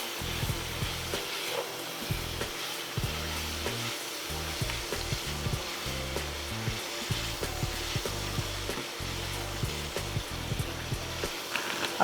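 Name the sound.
mushrooms and onions frying with ground meat in pan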